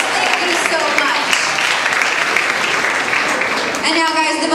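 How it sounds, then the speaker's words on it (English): Audience applause at a middle school awards ceremony for the Fairchild Challenge, a dense, loud wash of clapping held for several seconds, with a few voices rising at the end. "Another big round of applause."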